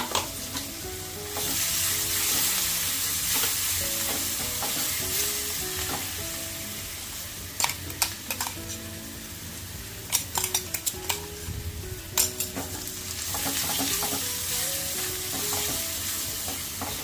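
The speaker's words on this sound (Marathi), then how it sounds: "कच्चेपणा सर्व निघून जायला हवा म्हणून परतून घेते" Vada pav filling masala paste sautéed in a pan over low gas, with a steady loud sizzle and repeated close scraping and clinking of a spatula stirring against the pan, no voices.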